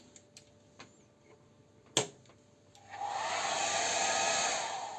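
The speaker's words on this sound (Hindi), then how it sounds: "hair dryer," A hotel room hair dryer at a Premier Inn switches on after a few faint ticks and a sharp click, then runs as a steady, loud whirring blow with no talk.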